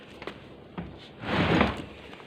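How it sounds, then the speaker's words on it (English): A door is opened indoors, a couple of light knocks followed by a longer scraping swing, close and moderately loud in a quiet room. "when I opened that door there"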